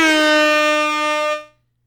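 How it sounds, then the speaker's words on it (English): An air horn sound effect blares as one loud, steady, brassy blast lasting over a second, then fades quickly into silence, with no talking during it. "and we'll give that an air horn."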